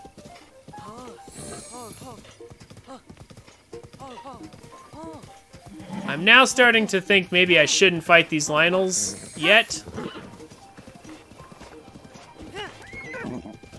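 Galloping horse hooves in Breath of the Wild, a quick clip-clop rhythm with whinnies building loud in the middle of the clip, while someone talks over it before and after.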